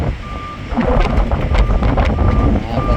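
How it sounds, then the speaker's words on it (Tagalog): Strong stormy wind at an airport in Perpignan, France, roaring in loud gusts against the microphone, with a repeating electronic beep and brief voices underneath. "Lakas ng hangin."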